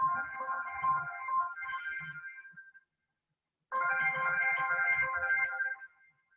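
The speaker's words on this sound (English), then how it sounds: "Oh, gee, somebody wants me on my cell phone." A cell phone ringtone goes off in a lecture room, playing a bright electronic melody in two bursts with a short silent gap between them. The ringing is loud and near, with no talking over it.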